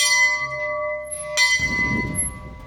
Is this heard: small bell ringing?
yes